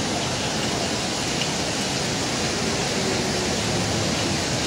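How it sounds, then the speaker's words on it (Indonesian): Heavy rain pours down during a motorcycle ride on the road from Jogja to Magelang, a steady, dense wash of noise that stays loud and unbroken throughout, with no talking. "Ini udan deres."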